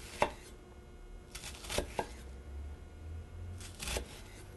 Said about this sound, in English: I want to dice. So I'm going to cut my slices when I do this